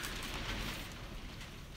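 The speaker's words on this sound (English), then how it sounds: "It's just started absolutely bucketing down." Heavy rain pours down outdoors in a dense, even hiss, a steady wash of sound with no breaks and no voices.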